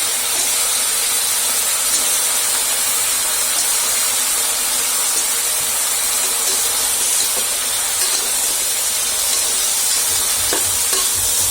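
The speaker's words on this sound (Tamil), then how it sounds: "இப்போ அதில் கிழங்கும் சேர்த்து இதையும் நல்லா வதக்கிக்கலாம்." Radish and potato sautéing in a pan for moong bean kulambu, a steady loud sizzling hiss with faint stirring scrapes, continuous and close throughout.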